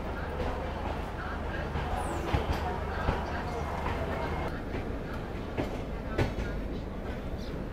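Express train pulling out of an Indian station, wheels clicking over rail joints with a steady rumble heard from on board, while a voice talks throughout.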